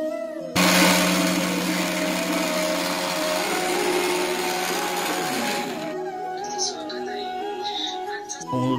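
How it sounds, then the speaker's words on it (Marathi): An electric mixer grinder grinds soaked urad dal and rice, starting abruptly with a loud, steady whine and churning roar, then cutting off after several seconds, leaving quieter room sounds and faint talk. "आता मिक्सरला लावून घेऊया."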